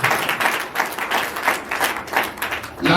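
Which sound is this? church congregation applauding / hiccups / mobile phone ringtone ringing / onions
church congregation applauding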